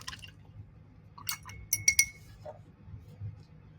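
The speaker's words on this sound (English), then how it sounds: "I'm going to wash my brush." A paintbrush swished and tapped against a glass of water while acrylic painting, giving a few faint clinks and light sloshing in a quiet room.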